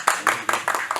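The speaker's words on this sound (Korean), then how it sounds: "박수로 환영해 주시기 바랍니다" At a talk on the history of local credit unions, an audience claps to welcome a speaker: a short run of distinct, fairly close handclaps with quiet voices beneath.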